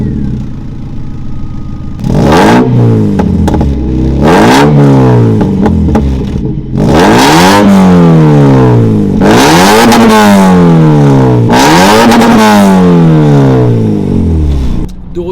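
A modified Japanese car engine fires up and revs hard in repeated loud bursts, each sweeping up in pitch and falling back between blips, close and dominant throughout.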